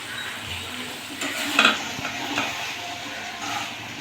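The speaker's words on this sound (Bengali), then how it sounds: "এমনি করে আমি ভালো করে কষিয়ে নেব" Mutton is stirred and braised in a wok, giving a low steady sizzle with soft scraping and a few brief utensil clinks against the pan partway through.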